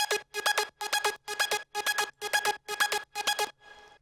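Supporting synth arpeggio in a remix, with bright plucked notes in quick repeating groups, a steady rhythmic pattern and a soft fading tail at the end.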